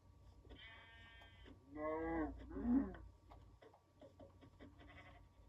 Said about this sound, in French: Parce qu'il a fait un bruit de mouton.